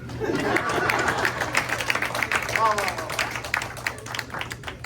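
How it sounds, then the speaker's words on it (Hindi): Audience clapping at an international Urdu poetry mushaira, a scattered, moderate patter of hands in a hall heard beneath a voice speaking over it. "मेरे से ताली मार दे चाहे"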